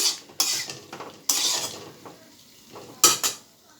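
Potatoes frying in a pan on a home stove, with a few sharp scraping and clattering bursts of stirring over a soft, steady sizzle, fairly close.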